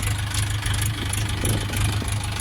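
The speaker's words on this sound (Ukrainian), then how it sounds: "Послухайте, як працює мотор." A LOVOL 354 Plus tractor engine with a cab runs at a steady idle nearby, giving a continuous low rhythmic chug with a slight uneven pulse throughout.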